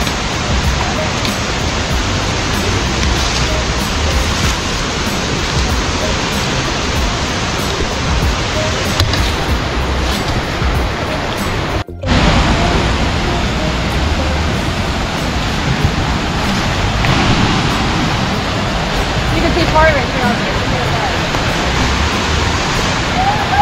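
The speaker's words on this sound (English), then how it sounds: "This is the Wolf Creek Falls." Wolf Creek Falls in New River Gorge National Park roars as a loud, constant rush of falling water, close and unbroken apart from one brief dropout midway.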